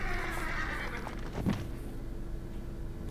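A horse whinnies in the Warcraft 3 strategy game, a single neigh rising over a steady bed of in-game battle sound and music, moderately loud and near.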